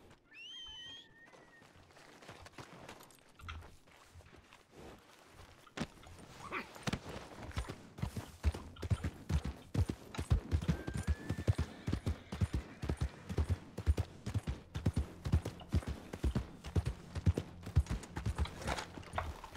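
Horse hooves in the RedM video game clip-clop in a steady walking rhythm, starting soft and growing more prominent, with faint tonal game sounds early on.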